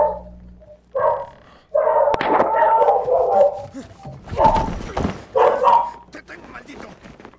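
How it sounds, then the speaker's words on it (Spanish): Dog barking in the video game Dying Light 2, a series of barks and yips arriving in bursts over several seconds, fairly close, with game noise and someone speaking Spanish in between. "Oh, un perro."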